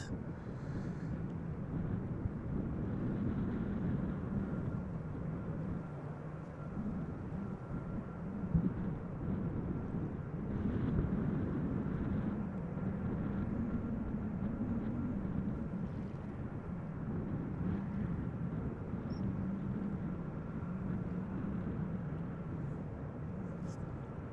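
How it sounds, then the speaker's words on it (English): A DHL Airbus A300 bound for Leipzig takes off at Amsterdam Schiphol in the windy weather after Storm Elin, its engines a steady, broad roar that holds for the whole stretch, with wind buffeting the microphone. "Banana looks like it is going to take off in a moment. A300 DHL going to Leipzig."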